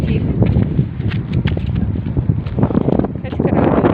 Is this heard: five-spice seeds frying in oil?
no